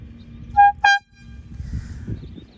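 Two short, loud blasts of an air-powered bike horn ring out close by, followed by rumbling traffic noise in the background.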